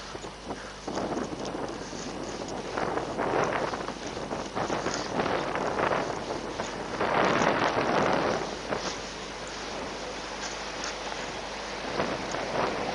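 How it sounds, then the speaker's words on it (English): Wind buffets a microphone outdoors, making a continuous rumbling roar that swells in gusts and fades at the end, with faint rhythmic thumps underneath. "then of course the wind picked up"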